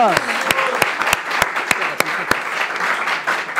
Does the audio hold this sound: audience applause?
yes